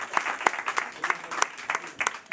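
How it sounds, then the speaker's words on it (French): Scattered, light clapping for a quiz team, a small group producing uneven individual claps with gaps between them, close and fairly soft. "on peut les applaudir quand même."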